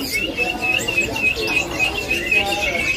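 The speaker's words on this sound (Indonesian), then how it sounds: "Burung udah bunyi Pak Kar?" Songbirds in cages at a large bird market give a steady, high, bright chirping trill that repeats throughout, mixed with a busy, murmuring market background.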